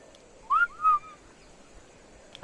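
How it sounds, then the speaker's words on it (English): Two short, clear rising whistles sound one after another in Ark: Survival Evolved, issued to call a tamed creature, alone against a quiet background. "Can't you like whistle for him?"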